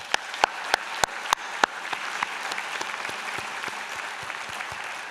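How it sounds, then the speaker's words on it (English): A small group claps at a graduation convocation, with a few sharp, loud claps at first, then a thinner scattering of applause that gradually fades. "please give a loud round of applause for all our beautiful grads"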